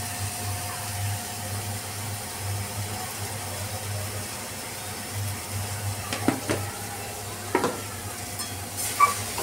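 Roasted brinjal mixture for bharit sautés quietly in a pan with a low, soft sizzle, and a few spatula stirs and scrapes come through near the end.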